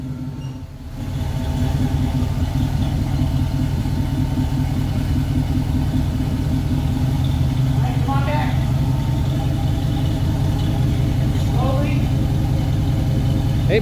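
Large V8 in a 1966 Pontiac Catalina station wagon, started hot and settling into a steady, loud idle that holds for most of the clip, with people talking nearby over the rumble.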